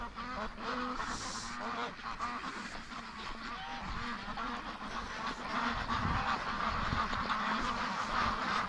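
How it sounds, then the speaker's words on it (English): Many free-range ducks crowded inside a barn, quacking and honking continuously in a dense, loud chorus with overlapping calls all the way through. "I can't believe how many ducks are in the barn."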